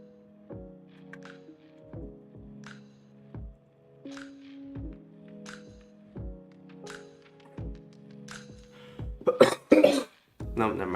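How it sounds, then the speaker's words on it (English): A person coughs repeatedly in short, muffled bursts spaced a second or two apart, close to the microphone, ending in a louder, harsher fit of coughing. "I couldn't help myself from coughing."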